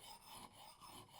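A hatchet edge with a dent is worked against a sharpening stone, giving faint, steady rasping strokes in a regular back-and-forth rhythm with no other sound.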